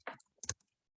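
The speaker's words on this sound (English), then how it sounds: "I'm going to go ahead and I'm going to type number 1" Two quick keypresses on a computer keyboard, clicking close and clear in an otherwise quiet room, with a short pause between them.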